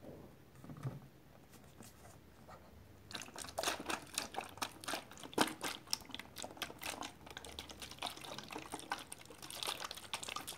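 Warm water pours and splashes during a hair wash at a salon, starting faint and growing into a busy, close, continuous trickling and spattering with no talking.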